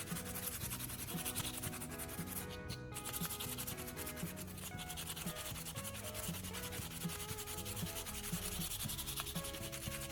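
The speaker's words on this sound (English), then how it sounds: "Using sandpaper, I began sanding each half of the scissors." Sandpaper scrubbing rust off the steel blades of pruning shears, a steady, close rasping rub that continues without a break, with no voices.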